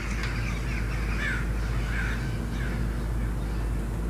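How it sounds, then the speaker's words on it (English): Several crows caw in a dark fantasy TV series episode, a few hoarse calls sounding moderately close over a constant wind-like noise bed, with no talk. "here comes the crows"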